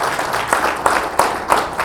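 An audience at an awards ceremony gives a brief burst of applause, several sharp clapping peaks standing out over a steady patter, fairly close and loud.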